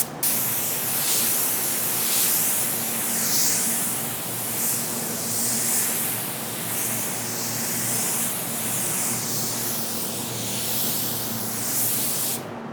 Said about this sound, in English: make it spray the way we want to, just like a full-size spray gun.